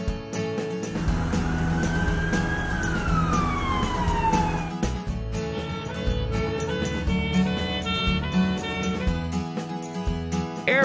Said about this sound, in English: Ambulance. Van.